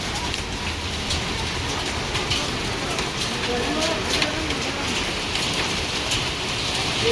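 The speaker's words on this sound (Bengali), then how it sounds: "দেখতে পাচ্ছেন এত বড় বড় শিলাবৃষ্টি পড়ছে।" Large hailstones pelt down in a dense, unbroken rattle and roar close by, and a voice speaks over the din.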